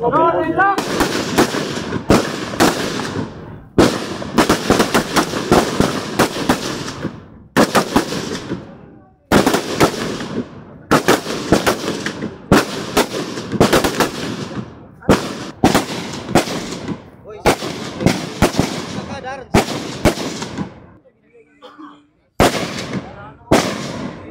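Rapid volleys of rifle gunfire at an outdoor shooting range during marksmanship training crack repeatedly in bursts and single shots, loud and close, with brief pauses between strings of fire.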